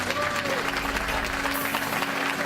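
A studio audience at a late-night comedy talk show claps and cheers, a dense burst of applause close up with a voice talking over it.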